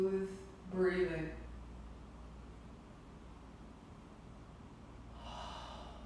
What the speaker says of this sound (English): And now long, smooth breathing.